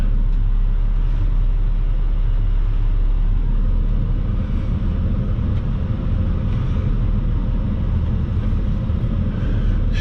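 A semi truck backing onto the tipper at White Tank Transfer Station, a steady heavy diesel rumble with deep low drone throughout, close and loud with no talk.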